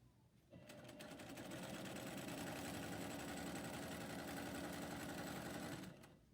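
A sewing machine runs steadily for nearly six seconds while stitching a curved seam on a garment, a loud continuous close-up whirring hum that starts and stops abruptly.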